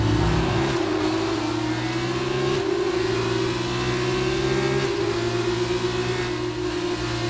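F2 race car in the F1 2019 game on the Baku street circuit, engine droning loud and steady with rising revs broken by quick upshifts roughly every two seconds, continuous throughout with no talk.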